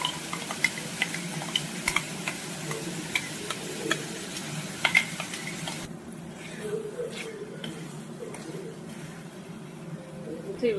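Ground masala paste frying in oil for a mushroom gravy gives a soft sizzle with scattered clicks and scrapes of stirring; the frying grows quieter partway through.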